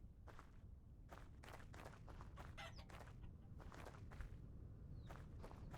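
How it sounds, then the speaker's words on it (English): A chicken in the video game Vintage Story clucks in short repeated bursts amid soft footstep-like patter, fairly close but quiet, with no talk. "Little chicken."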